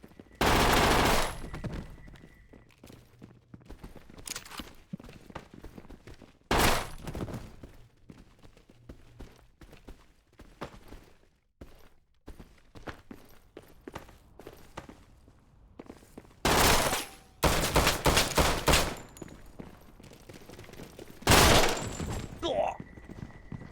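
Bursts of submachine gun fire in the top-down shooter Hotline Miami, several loud rapid volleys at intervals with quieter clatter and footsteps in between, and a voice talking over parts of it.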